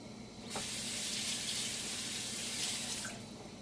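Kitchen tap water pouring into a sink while something is rinsed off during pork posole cooking, a soft steady rush that starts abruptly, runs about two and a half seconds and cuts off, no talking.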